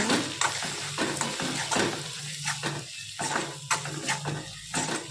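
Green chillies and salt frying in hot oil in a pan, stirred continuously, make a dense crackling sizzle with repeated scraping strokes of the spoon, close and fairly loud.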